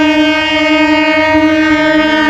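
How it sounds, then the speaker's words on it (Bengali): Passenger train at an Indian station on the Jasidih to Deoghar route, sounding a long, steady, loud horn blast with strong harmonic tones that holds for the whole stretch, no voices over it. "কিছুক্ষণের মধ্যেই আমাদের ট্রেন চলে এলো।"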